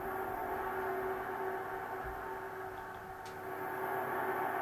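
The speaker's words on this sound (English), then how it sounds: "So it's basically a continuous noise drone." A steady, washed-out noise drone with a smeared, echoing tail, holding at an even level throughout with no clear breaks.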